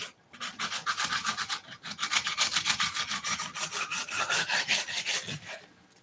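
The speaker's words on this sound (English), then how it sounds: "That grinder you see me grind foam with, it's called a Bondo Buster." A Bondo Buster grinder sands foam on a 1985 Caprice dash, a steady close rasping scrub with rapid repeated strokes running nearly the whole time and no talking.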